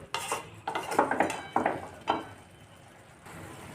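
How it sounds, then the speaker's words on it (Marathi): A metal lid is set onto a pot of cooking lentils and grated ridge gourd, giving several close clinks and clatters in quick succession before a quieter stretch. "यावर आपण झाकण ठेवून देणार आहोत"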